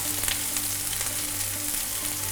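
Garlic, ginger, seeded chilies and carrots fry and get stirred together in a hot pan, giving a steady, dense sizzle that stays loud and even throughout with no voices.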